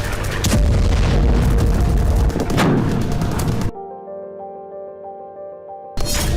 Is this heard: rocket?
yes